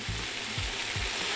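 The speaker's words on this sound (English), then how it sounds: "You hear it sizzle." Greens sizzling in a hot pan after chicken bone broth is added, a continuous close hissing crackle with three soft low thumps of the pan or stirring spaced about half a second apart.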